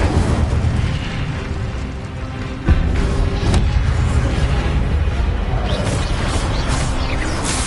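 Incendio fire spell cast in the Hogwarts Legacy video game, a loud sustained roaring whoosh with sharp bursts and crackles layered over dense game effects and music.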